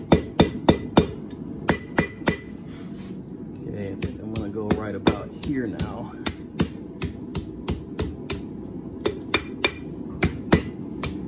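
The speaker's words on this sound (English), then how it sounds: "Always best use the flat side of your hammer when you're doing things like this." Hammer blows forging a metal bar into a paper towel holder, ringing strikes in a steady rhythm of close, loud hits, pausing briefly midway while someone speaks, then resuming repeatedly.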